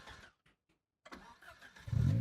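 A car engine in the Project Zomboid video game cranks and catches after a brief silence, then settles into a rising rumble that grows louder toward the end.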